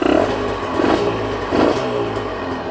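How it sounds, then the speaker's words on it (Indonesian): A Honda NSR 150 SP two-stroke engine fitted with an open-filter carburettor revs up and down in repeated loud, raspy bursts close by, with metallic clatter under the buzzing exhaust. "Karbunya open filter, jadi suaranya kayak gini."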